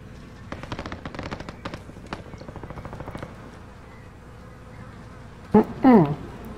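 Rapid bursts of distant gunfire in Call of Duty: Warzone crackle for a few seconds, followed by a short pause and then a voice speaking.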